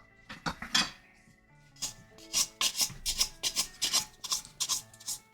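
A scraper rasps and clatters against the inside of a container while food is worked out in a home kitchen, a string of short scraping strokes close by, some rapid and some spaced, with no talking.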